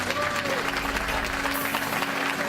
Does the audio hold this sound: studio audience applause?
yes